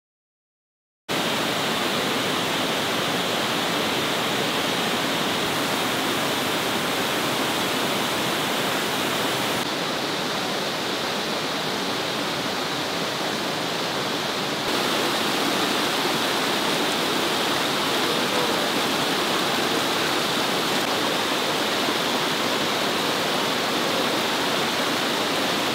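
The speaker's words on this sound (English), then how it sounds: "I fell trying to get under this waterfall" A waterfall roars as a steady, dense rush of falling water, loud and constant after a brief silent start, with no other sounds breaking through.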